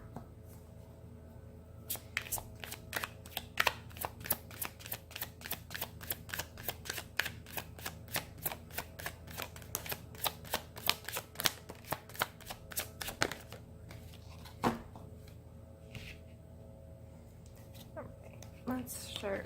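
Tarot cards are shuffled close up in quick, crisp bursts of riffling and flicking, with short pauses between runs.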